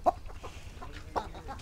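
Aseel rooster of Amroha and Bagheri breed giving a few short, close clucks and grunts, spaced irregularly over a quiet low background.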